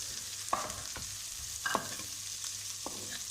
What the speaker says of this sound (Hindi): लहसुन अदरक फ्राई हो चुका है, इसमें हमने प्याज डाल ली। प्याज को भी हम अच्छे से हल्का सा फ्राई करेंगे।